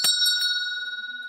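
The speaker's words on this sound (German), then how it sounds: "Das typische Glockengeräusch werden wir aber trotzdem hören" A single clear bell ring signalling that speaking time is almost up at a youth debate competition, a bright sustained metallic tone that slowly decays, heard alone.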